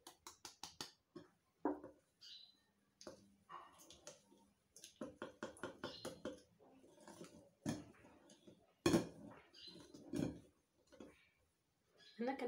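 Cake batter is mixed by hand in a bowl, making soft, wet, irregular slaps and squishes in quick bursts, close and fairly quiet, with pauses between runs of strokes.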